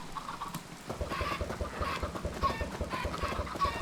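Chickens clucking in the Minecraft video game, a run of quick repeated clucks at close range over a steady background patter.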